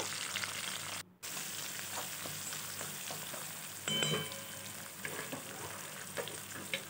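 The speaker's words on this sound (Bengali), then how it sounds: "পেঁয়াজটাকে ভালো করে ভেজে নেব।" A large onion sizzles steadily in a hot pan, fairly quiet, with a few scraping stirs partway through.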